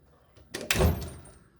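The heavy ratchet drawer of a US General toolbox from Harbor Freight slides along its runners, giving a brief metallic rumble and clatter that builds and then trails off.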